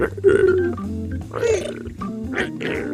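Bright, squeaky chirps from the strider, a video game creature, in a few separate bursts over a low rumbling background, lively and close.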